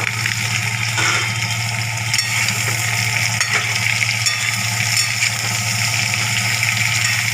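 Cauliflower florets frying in hot oil in a pan after the potatoes, giving a steady dense sizzle with light stirring scrapes over a constant low hum throughout.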